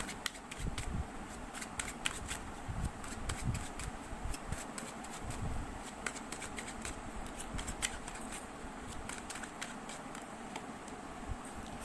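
Tarot cards are shuffled and handled close up, giving a steady run of papery riffles, flicks and snaps throughout with no speech.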